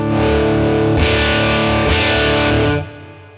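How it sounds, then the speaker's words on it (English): Electric guitar through a 1957 Tweed Bassman ToneX crunch tone model, loud distorted chords ringing steadily with two fresh strums before stopping abruptly near the end, no voices. "Let's try the crunch balance."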